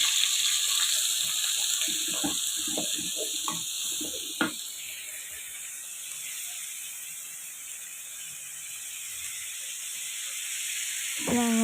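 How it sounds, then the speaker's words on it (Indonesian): Spices sautéing in hot frying oil for an Indonesian sayur lombok tahu give off a steady, bright sizzle with a few soft clatters near the start. No voices. "Panaskan minyak goreng lalu tumis bumbunya sampai harum dan matang."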